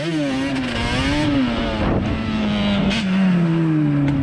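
A Banshee 350 quad's two-stroke engine revs hard and loud during a wheelie attempt, pitch wavering and then climbing steadily as the throttle is held open, close up with no talk.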